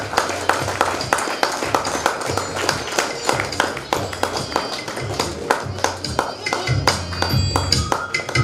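Audience applause at a foundation's fifth-anniversary ceremony and blood donation camp, a dense, steady patter of many hands clapping that fills the hall with a low rumble underneath.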